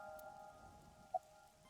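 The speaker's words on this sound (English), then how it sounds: "I can't see it well in the rain." Rain falls in the video game AI: The Somnium Files, a faint, steady hiss of drops under a low humming tone, with one brief brighter tick partway through.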